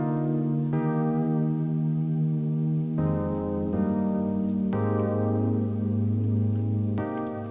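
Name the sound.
synth patch wobbling in and out of pitch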